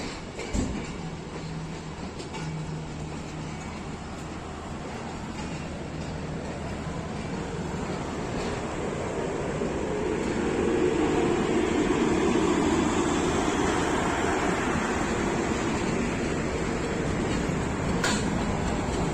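The 12 Down Hazara Express pulls out of Rawalpindi station on Pakistan Railways. A steady low rumble of rolling stock builds gradually under a constant hum, with a couple of sharp clanks near the start.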